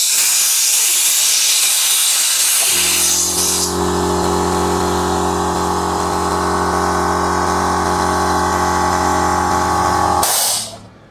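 An HL 1 HP 9-liter electric air compressor releases air in a loud, continuous hiss while its motor drones steadily underneath, then the motor cuts off and a final burst of hissing ends abruptly.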